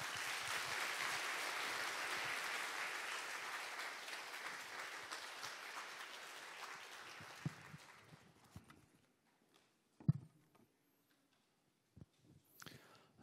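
Applause from a church audience welcomes a guest speaker to a Wednesday service. The clapping is steady and full for about seven seconds, then thins into a few scattered claps and small knocks before quiet.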